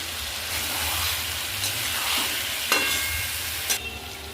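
Potatoes fry with spices for vegetarian Kashmiri aloo dum, giving a steady close hiss and crackle. A few brief scrapes or taps of a utensil cut through the sound.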